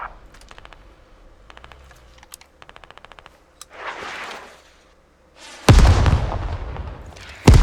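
Gunfire in the military game Squad: quiet, rapid bursts of distant automatic fire, a rumbling blast, then two loud, close explosive volleys near the end.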